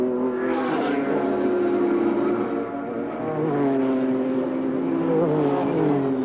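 Racing cars at Amaroo Park circuit in 1989 drone along the back straight, engines revving and rising in pitch as they pass at moderate distance, a continuous mechanical roar with no talk.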